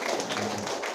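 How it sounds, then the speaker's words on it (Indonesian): An audience at an English education tour event on a Semarang campus applauds, a brief steady wash of clapping with no pause. "Coba tepuk tangannya lebih semangat lagi Bapak Ibu."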